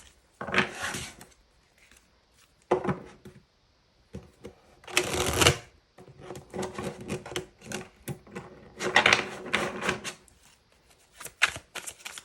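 Tarot cards shuffled by hand at close range in several quick, crisp bursts of flicking and riffling, separated by short pauses and softer handling noises.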